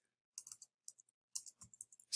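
Keystrokes on a computer keyboard while a git remote add command is typed, sparse quick clicks in short bursts with pauses, close and fairly quiet, no talking.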